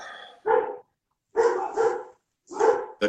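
Dogs bark in short, loud bursts, four or five distinct woofs with brief pauses between them, close by and with no other sound around.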